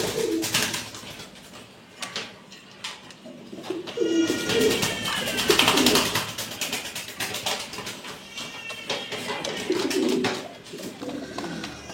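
White Pomeranian pouter pigeons coo in low, rolling bursts that rise and fall, with softer chirps and rustling around them at moderate distance.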